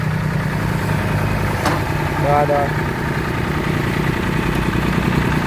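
A low, steady Mitsubishi 250 tractor engine idle rumbles continuously, with a brief short voice exclamation partway through.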